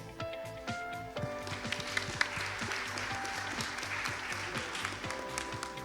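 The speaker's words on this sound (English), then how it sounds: "you deserve another big applause, please, for the teachers" An audience applauds teachers at a clinical conference, a dense crowd of many hands clapping steadily at moderate distance, with irregular sharper claps poking out and no voices over it.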